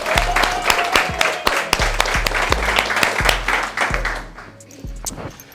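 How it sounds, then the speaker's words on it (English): An audience applauds steadily for several seconds, dense overlapping claps that gradually thin out toward the end. "So let's clap it up for Liliana again"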